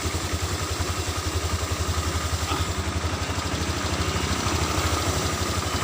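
A Honda Vario 125 scooter engine idles on its own at low RPM with a steady, even low thrum and light clatter, loud and close, running the whole time with no talk.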